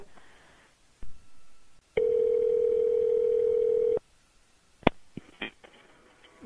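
Steady telephone dial tone on a landline after the other end hangs up, a loud continuous hum lasting about two seconds, framed by handset clicks and brief handling noise.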